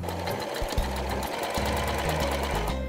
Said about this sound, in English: Next, you're going to sew the crotch seam.